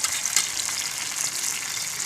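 River fish frying in a pan gives a dense, continuous sizzle of hot oil, close and fairly loud, with fine crackling and no voices.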